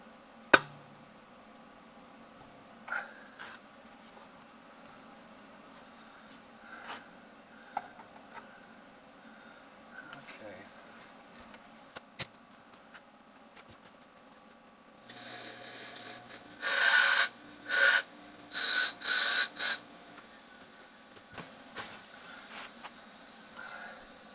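Arc welding on a broken bolt on an LS tractor comes in several loud, buzzing, crackling bursts in the latter half, after quieter handling clicks and rustles.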